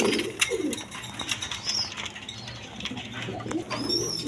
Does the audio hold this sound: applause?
no